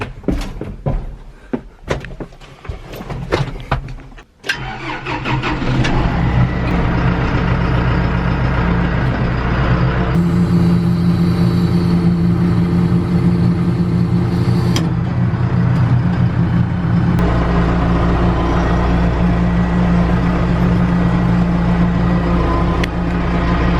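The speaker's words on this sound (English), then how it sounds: "We got to move this tractor out." A farm tractor fitted with a ditch bank mower at a cranberry marsh runs with a steady, loud, low diesel rumble that starts after a few seconds of clanks and knocks and holds close by to the end.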